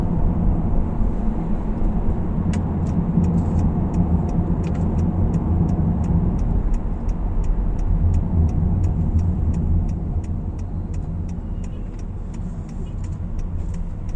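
A new Honda Accord driving on a road, heard from inside the cabin as a steady low engine and road-noise drone with faint regular ticking clicks throughout, easing slightly toward the end, with no talking.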